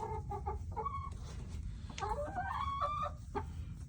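Several chickens in a chicken tractor cluck and squawk close by in an irregular chorus, with short rising calls over a low background rumble.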